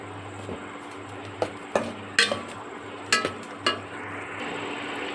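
A spoon stirring a poppy seed and cardamom holige filling in a pan, a handful of sharp scraping knocks spaced about a second apart over a steady low hum, without talk.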